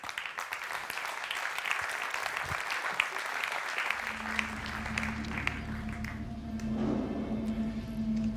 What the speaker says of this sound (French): Leïla, vous pouvez l'applaudir.